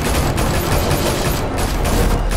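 Dense, continuous gunfire from a Batman video game, sustained volleys and bursts filling the whole stretch at a loud, even level with no voices over it.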